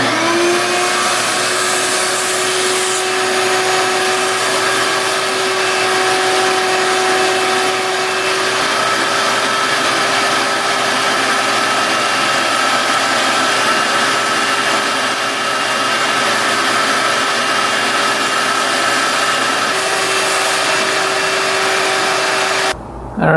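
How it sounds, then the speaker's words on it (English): A vacuum cleaner sucks dirt out from around an engine's spark plug, running as a loud, steady whine with a constant tonal hum for over twenty seconds before cutting off abruptly at the end. "let me get the vacuum and vacuum that stuff out before taking out the spark plug"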